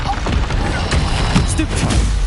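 A Stupefy spell cast in Hogwarts Legacy, heard as a loud booming burst within a busy, noisy duel of crackling magical impacts.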